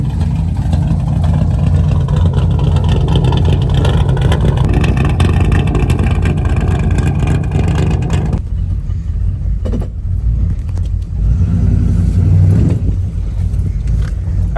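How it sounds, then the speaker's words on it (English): A budget Chevy small block 350 V8 swapped into a 1985 square body Chevy truck idles loudly and steadily nearby, a fast mechanical distributor tick running through the rumble, briefly easing then building again. "that's just how much noise that distributor makes"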